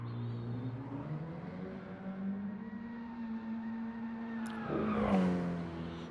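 A Mini Cooper race car in a Mini Cooper Cup round at Tokyo South inner loop climbs a hill, its engine droning and rising steadily before a brief, loud burst of tyre squeal near the end.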